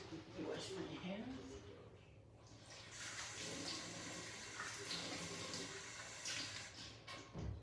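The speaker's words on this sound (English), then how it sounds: "Wash my hands." A kitchen tap runs while hands are washed during cooking prep: a soft, steady splash of water near the sink, with a person's voice heard under it.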